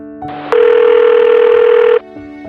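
A voice call's telephone ringback tone sounds as one loud steady electronic tone lasting about one and a half seconds, starting and stopping abruptly over a faint line hum.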